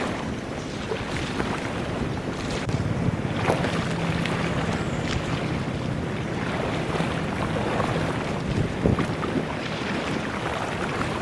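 A large fully cellular container ship underway on a jungle river in Vietnam, heard as a steady low engine rumble with a faint hum, mixed with continuous wind buffeting and water wash, with no talk.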